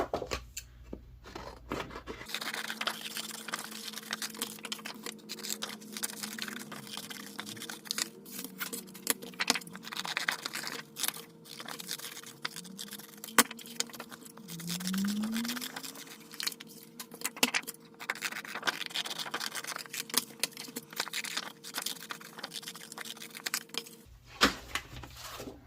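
Scissors snip through paper to cut out rose petals for a giant paper rose, giving soft repeated snipping and rustling at close range with no talking.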